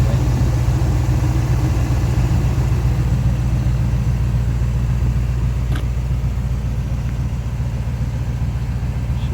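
A 1987 Chevrolet C10 short bed pickup, its alternator recently replaced, idles steadily with a low, even engine rumble that holds constant throughout.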